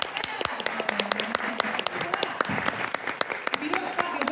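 An audience at a Stockholm Comic Con panel breaks into sustained, lively applause, with dense close clapping and voices murmuring underneath.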